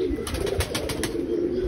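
A pigeon coos up close in a steady, low warbling run, with faint sharp ticks scattered through it and no talking.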